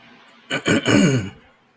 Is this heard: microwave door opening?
no